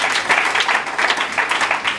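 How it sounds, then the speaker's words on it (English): Applause from a crowd at a church prayer and fasting gathering, a steady dense patter of many hands clapping for about two seconds with no clear voices. "Oh, I thought somebody was clapping."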